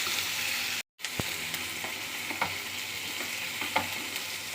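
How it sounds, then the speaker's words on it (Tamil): Tomato, green chili and curry leaves frying in a pan for Chettinad chicken sukka, a continuous soft sizzle close by, broken by a short drop-out and a few light stirring taps. "இதை நல்லா வதக்கி விட்டுறணும்."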